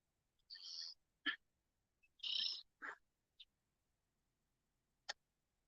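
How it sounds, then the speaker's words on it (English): Sparse bird calls sound outdoors by a lake: a few short chirps and whistled notes with gaps of near silence between them, fairly faint and clear, with no talking. "Just listening to the birds."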